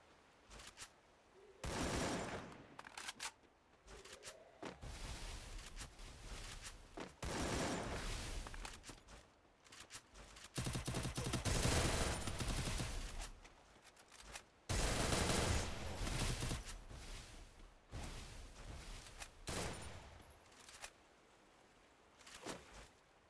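Dense bursts of automatic rifle fire from a Counter-Strike ranked match rattle in clustered volleys, some long sustained sprays and some short taps, loud and close with brief gaps between exchanges.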